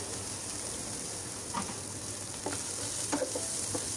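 Chopped onions and green chilies frying in about a tablespoon of oil, a steady soft sizzle with occasional stirring clinks, close and continuous, no talking.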